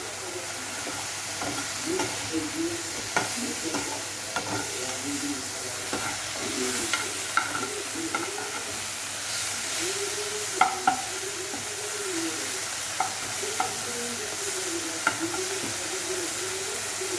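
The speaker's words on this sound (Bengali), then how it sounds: "সেই কারণেই আমরা একটু হালকা ফ্রাই করে নিলাম" Prawns lightly frying in a pan for a shrimp paste dish, a steady close sizzle with scattered crackles and occasional scrapes of stirring.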